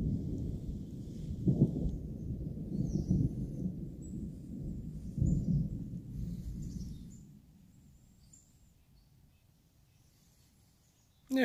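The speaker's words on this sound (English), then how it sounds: "You add in thunderstorms" Thunder from a storm over the trail in Maine's woods, a long deep rolling rumble with a couple of sharper cracks, fading to quiet with faint birds chirping above it.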